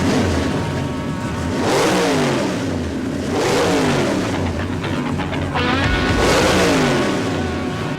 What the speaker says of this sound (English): I'm talking about Rick Dyer's 55 Chevy, the fastest street-legal car in the world